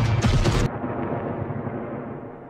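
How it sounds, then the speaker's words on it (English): Explosion from a fuel blast in the Halo TV series: a loud, booming burst with crackling debris that cuts off sharply, leaving a long rumbling roar that slowly fades. "That was a pretty cool explosion."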